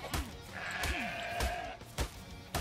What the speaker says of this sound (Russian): Не, блин, барашек тут тусуется.